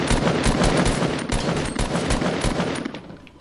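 Suppressed submachine gun fire in a shooter video game, a dense, continuous burst of muffled rapid shots that stays loud and steady before thinning out at the end, with no talking.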